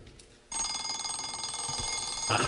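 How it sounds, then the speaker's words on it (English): An electronic alarm clock starts ringing abruptly, a shrill, rapidly pulsing bell-like tone that continues steadily and fairly loudly. "a sound that is desperately familiar to most of us, and of course it's the sound of the alarm clock."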